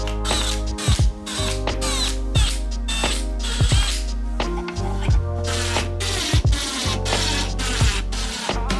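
Hinges are screwed onto the lid of a wooden storage box, with repeated ratcheting clicks and short bursts of a screwdriver turning. Creaks and rubbing from the wood follow in an irregular start-stop rhythm, close and fairly loud.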